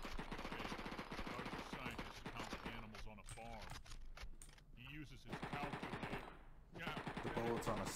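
Rapid automatic gunfire from a P90 in a first-person shooter video game, loud bursts crackling under continuous excited talk from players.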